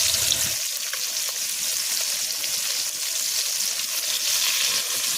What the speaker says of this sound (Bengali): মাছ ভাজার জন্য ভাইপো কড়াইটা রেডি করছে।